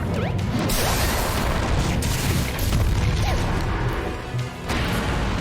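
A shield breaks in Super Smash Bros. Brawl, a dense loud crash of shattering and impact noises amid continuous game effects.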